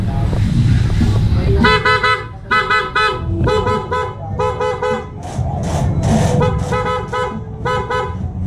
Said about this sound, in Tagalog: para magkaroon ng power yung ating bagong busina